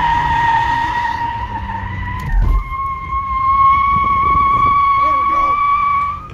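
Car sliding through a reverse J-turn, a loud sustained tire squeal holding steady with engine noise, briefly dipping midway before the screech resumes and fades at the end.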